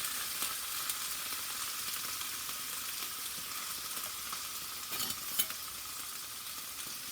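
Flounder fries in a pan with a steady, close, dense sizzle that holds evenly throughout, with a brief swell of crackling near the middle.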